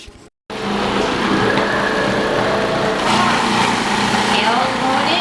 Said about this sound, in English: I'm gonna put all of this through, except the jalapenos, through the grater